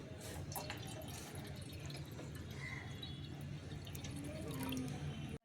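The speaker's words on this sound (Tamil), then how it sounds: "இப்போ தேவையான அளவு தண்ணி ஊற்றிக்கலாம்" A steady stream of water splashing into a pot, continuous and fairly quiet, running without a break before cutting off abruptly.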